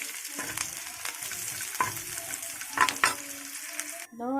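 Onion and garlic frying in a pan until browning, for a taro leaf (kochu shak) dish, with a steady close sizzle broken by a few scraping stirs of a utensil and some clinks.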